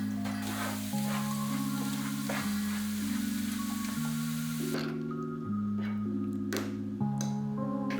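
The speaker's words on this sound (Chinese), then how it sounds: "先把刚刚剁好的1大碗蒜蓉炒成香喷喷的蒜油" A big bowl of minced garlic sizzles and crackles as it is stir-fried in a wok into garlic oil, a steady close frying hiss with a background tone and occasional scraping stirs.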